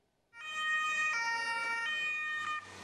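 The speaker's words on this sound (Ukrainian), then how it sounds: "Полицейские сирены разрывают тишину улиц." Police sirens wail on city streets, a loud, steady electronic siren with stepped pitch changes sounding close and alone.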